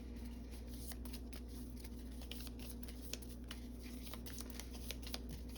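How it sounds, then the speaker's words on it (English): A deck of game cards is shuffled by hand, giving a continuous soft riffling patter with small irregular snaps, close and fairly quiet over a low steady hum. "so just do a good old-fashioned shuffle"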